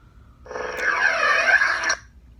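Ardent NBv4 lightsaber soundboard playing its power-off sound, a smooth humming electronic swell lasting about a second and a half before cutting off, alone and fairly clear.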